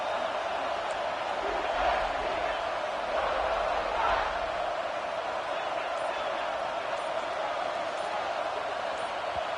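Steady roar of a college football stadium crowd at a Coastal Carolina game, loud and continuous as the offense is flagged for a false start, with a commentator talking over it.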